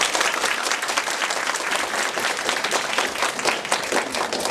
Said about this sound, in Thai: ขอเสียงปรบมือทั้งสองท่านด้วยนะครับ